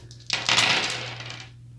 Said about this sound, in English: Love the sound of wooden dice.